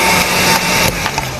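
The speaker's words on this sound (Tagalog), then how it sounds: "Ayan yung blower." Steady, loud whirring drone of a blower fan running during a test of a 38000-watt inverter under repair, a continuous noisy rush with faint clicks, no talk.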